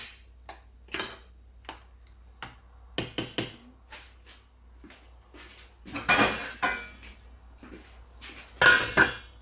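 A metal lid clatters and clinks back onto a cooking pot of zaalouk, a Moroccan eggplant dish, in a series of sharp, close knocks and scrapes with quiet gaps between them.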